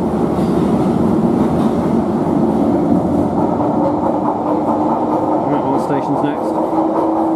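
A Bakerloo Line 1972 Stock underground train runs southbound between Paddington and Waterloo, heard from inside as a loud, continuous rumbling roar with a steady motor whine, wheel clatter and brief high squeals, plus faint voices in the carriage.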